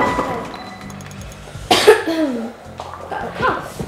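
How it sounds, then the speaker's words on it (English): A single sharp cough breaks out during a Wii Sports bowling session, short and loud against quieter room sound, with talk and faint game noises before and after it. "Got a cough."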